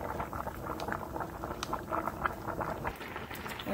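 Spaghetti boils in a pot of water, a steady close bubbling and popping patter that continues evenly throughout, faint and with no voices.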